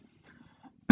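A single sharp cough bursts out abruptly at the end after near silence, close and loud, from a person troubled by spring allergies.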